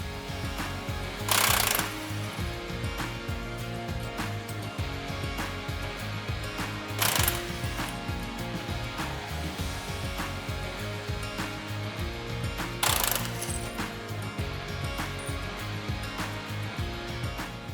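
Impact wrench driving out through bolts from a double disc pump housing, with three short loud bursts spaced several seconds apart over a steady mechanical ratcheting background.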